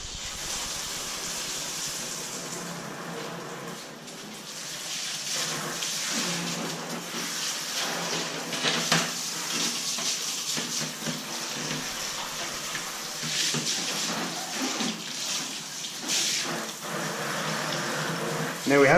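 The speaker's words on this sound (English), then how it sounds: "So we'll just turn on the water, make sure we've got no leaks." Water runs from a newly installed hand-held shower head in a bathroom, a steady hissing spray that fills the whole stretch with fluctuating splashes, loud and close.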